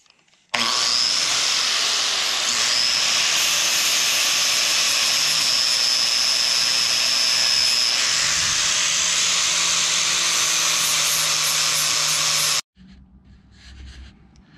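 Grinder or wire wheel cleaning metal before welding on a BendPak HD-9XW four-post lift build: a loud, continuous high whine runs unbroken for about twelve seconds, then cuts off abruptly, leaving only faint background.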